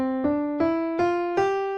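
Mixolydian mode scale played as four clear ascending notes, evenly spaced and ringing, on a sustained pitched instrument with no voices.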